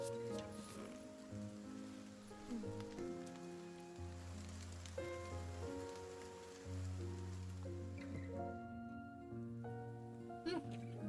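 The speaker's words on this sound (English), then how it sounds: "The endless patter of rain on the street creates a wordless song." Rain patters steadily on a street, a soft continuous hiss running beneath louder sustained melodic music throughout.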